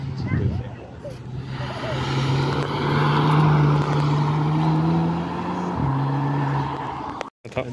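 Golf rally car engine passing on a hot day at a rally stage, a loud droning roar that swells and holds before cutting off abruptly, with people talking nearby.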